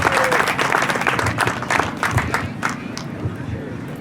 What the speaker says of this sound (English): let's get a round of applause for the parade committee and the hard work they've done